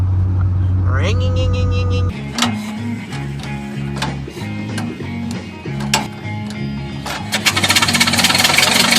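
A fully built Honda Civic running on E85 cranks over, with the starter's steady whirring churn and clicking mechanical ticks, close and fairly loud.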